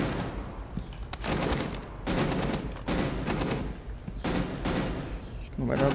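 Repeated bursts of rapid gunfire from the video game Rainbow Six Siege crackle in several volleys with brief gaps between them, while voices talk over the shooting.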